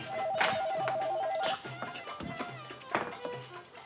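A home landline telephone rings with a repeating electronic warble in a domestic scene, loud at first, then giving way to background sound and faint voices.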